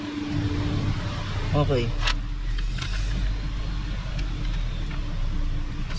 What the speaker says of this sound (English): So the front wheel is now spinning.